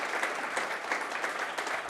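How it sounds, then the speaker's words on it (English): Dense, continuous applause from a conference audience in London, steady and loud throughout with no pauses. "if I can keep that applause going so I can get my selfie"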